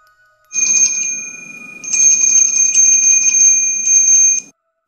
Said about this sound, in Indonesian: saya terbangun oleh suara lonceng. Kali ini dengan irama yang lambat.